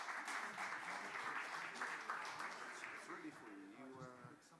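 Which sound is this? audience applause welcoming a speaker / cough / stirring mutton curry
audience applause welcoming a speaker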